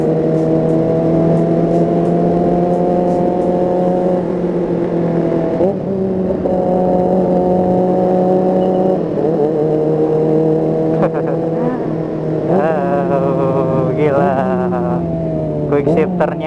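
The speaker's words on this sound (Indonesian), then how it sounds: "tapi suaranya enak loh. ZX25R. Kita buka biar kedengeran." Kawasaki ZX25R motorcycle engine running close by with a loud, high, droning tone, holding steady before rising and dipping in several revs toward the end, while people talk over it.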